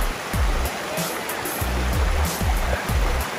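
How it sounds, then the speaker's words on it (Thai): Natural waterfall at a campsite in Lampang, Thailand, its broad steady roar of falling water filling the clip, with irregular low thumps over the top and no clear talk. "อันนี้เป็นน้ำตกธรรมชาตินะฮะ"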